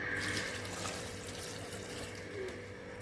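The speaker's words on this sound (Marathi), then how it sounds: "त्याच्यामध्ये पाणी घालत आहे." Water pours in a steady, quiet stream into a pressure cooker holding soaked white peas, a soft continuous splashing close by with no talking.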